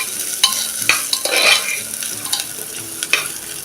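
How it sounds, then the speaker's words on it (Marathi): Washed rice tossed with cashews and cloves in a hot pan, crisp scraping stirs recurring every half second or so over a soft sizzle, close and clear. "ते तांदूळ आपण आता हे मिनिटभर परतून घेऊया"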